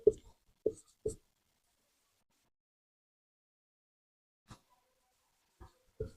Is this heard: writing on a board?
yes